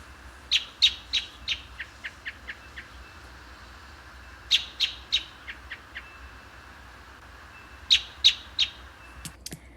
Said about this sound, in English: So I'll attach a little audio of how these American robins sound.